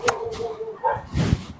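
Dogs on a pack walk give a few short, close barks and yips, with a faint whimper and background movement between them.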